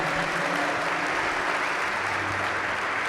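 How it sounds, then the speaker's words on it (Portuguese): Church congregation applauding during an evening worship service: a sustained, even wash of many hands clapping, with a faint low hum beneath. "Dê uma salva de palmas a Ele"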